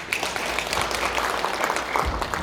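Workshop audience at a citizen energy planning session claps to welcome a speaker onstage, a moderately distant, steady wash of applause lasting a couple of seconds.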